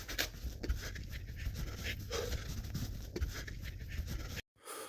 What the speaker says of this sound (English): See, you could hear me breathing.